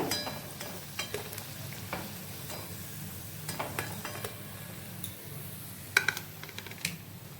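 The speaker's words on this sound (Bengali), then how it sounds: "এইভাবে আমি সবকটা কোপ্তা ভেজে নেব।" Bottle gourd koftas frying in a pan of oil give a steady low sizzle, broken by scattered clinks and scrapes of a utensil stirring and lifting them, fairly close with no talk.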